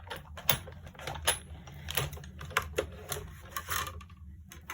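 A Sizzix die cutting machine is wound through by hand with dies and plates, giving quiet, close, irregular clicks and ratcheting knocks over a low mechanical rumble, spread across several seconds.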